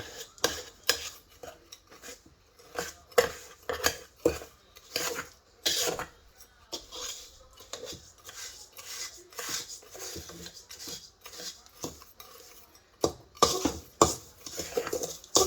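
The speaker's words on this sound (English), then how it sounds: "I'm doing this with a metal spatula because it's getting a lot easier to do it with a metal spatula" A metal spatula scrapes and works graham cracker dough in a bowl, making repeated rasping, rubbing strokes in an irregular rhythm with a few clinks, close by and moderately loud, with no talk.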